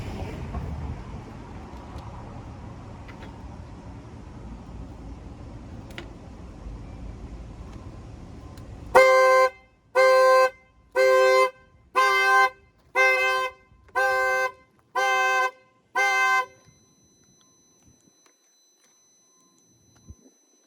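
A series of eight loud, evenly spaced electronic beeps from a portable power pack, each lasting about half a second, after a stretch of low background hum.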